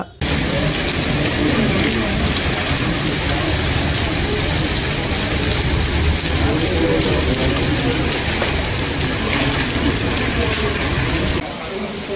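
Heavy rain falls during a storm with strong winds in Chikkamagaluru, making a dense, continuous loud hiss and patter that lasts throughout.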